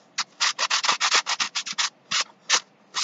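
Sandpaper rubbing along the sides of a handmade cardboard Lazy Susan, close and clear, in a run of quick scratchy strokes that slows into a few separate passes.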